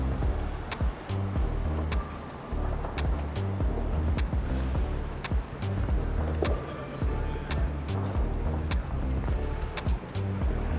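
Busy city street at night, a steady roar of passing cars with intermittent sharp knocks and clatter, fairly loud and continuous throughout.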